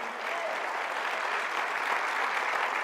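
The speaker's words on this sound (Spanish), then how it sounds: "Den un aplauso al Señor." A church congregation applauding together: a steady, dense wash of clapping that holds at an even loudness for about three seconds, with no talk over it.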